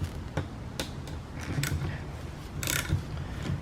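A hand ratchet clicks in short bursts while loosening a 17 mm nut on a front strut of a 1999-2003 Acura RSX, with metallic ticks and ratcheting pawl sounds close by and no talking.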